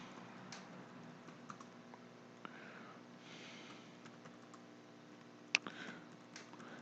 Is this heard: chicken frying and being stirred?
no